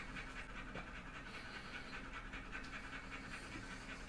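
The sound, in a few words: black lab dog panting after chasing a ball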